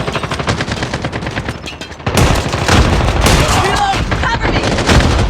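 Heavy video game gunfire with shotgun blasts, dense repeated close shots that swell louder and busier midway, with voices faintly mixed underneath.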